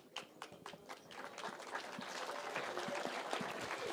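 An audience at a gathering applauds, starting with a few scattered claps that swell into steady, fuller clapping from a crowd, moderately distant, with faint voices underneath.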